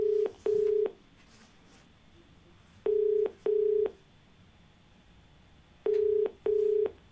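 DTMF touch-tone dialing placing a call from a Hindi TV call-in show studio: three bursts of paired steady beeps, each pair of tones loud and clean, separated by silent gaps, with no voices.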